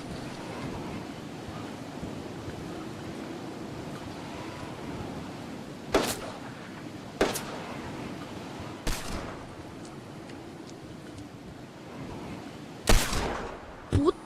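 Fortnite gunfire at Dusty Divot, several loud sharp shots and blasts at uneven intervals, two close together near the end, over a constant windy hiss.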